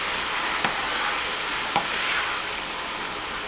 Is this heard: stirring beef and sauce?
yes